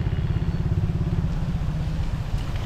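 A low-slung motorcycle engine putters with a low, rapid, uneven rumble, close and continuous throughout, on a flooded road.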